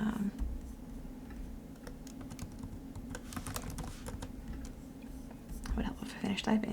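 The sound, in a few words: typing on a computer keyboard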